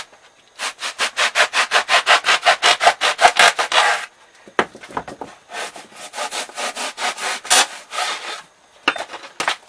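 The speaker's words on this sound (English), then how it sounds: "we're going to try the hacksaw blade. It goes through pretty easy." A hacksaw blade saws by hand through foam tool-tray filling. Loud, close back-and-forth strokes come in a fast, regular rhythm, pause, then return as a looser, uneven series of rasping pulls.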